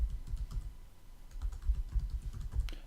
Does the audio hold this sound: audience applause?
no